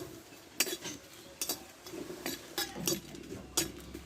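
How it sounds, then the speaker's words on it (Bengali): A utensil scrapes and clinks against a hot wok while dry red chillies are stirred, several sharp metallic taps scattered irregularly over a faint background, close and quiet. "শুকনো লঙ্কাগুলো দিয়ে দেবো এই শুকনো লঙ্কাটাকে অল্প আছে আমি নেড়ে নেব"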